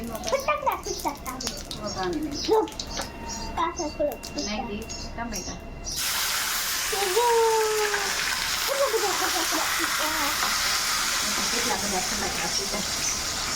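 Cumin and mustard seeds sizzling in hot oil, cooking a bottle gourd curry in a Gujarati village kitchen, a loud steady hiss that starts abruptly midway and follows a stretch of talking.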